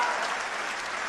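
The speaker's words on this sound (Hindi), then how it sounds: "और अब आपकी तालियां उठेंगी" Dense, steady applause from a live audience fills the whole moment, a broad wash of clapping hands with no voices standing out.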